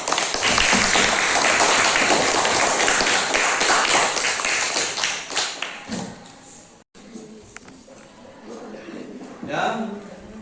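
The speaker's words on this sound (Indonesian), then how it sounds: "Kita berikan tepuk tangan." Classroom students clap for a group presentation, a loud, dense burst of many hands that fades after about six seconds into quieter room sounds with a few scattered taps.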